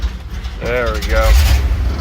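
A car's gear shifter is moved into park and pushed down through the gears, giving a close mechanical clunk and ratcheting slide, with a voice speaking faintly under it.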